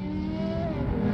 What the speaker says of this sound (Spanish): Tengo justo detrás un Audi RS4. Que suena también ciertamente poderoso con ese motor V8.